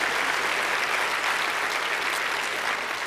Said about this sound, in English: Please give Muriel another round of applause.